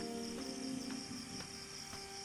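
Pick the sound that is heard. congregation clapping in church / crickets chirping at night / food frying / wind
crickets chirping at night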